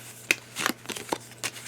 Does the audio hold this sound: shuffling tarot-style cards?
yes